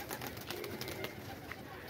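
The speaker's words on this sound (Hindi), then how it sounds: "ये कबूतर अभी उड़ने वाले कबूतर" Pigeons kept by a pigeon fancier coo softly at a faint, constant level, with soft rustling around them.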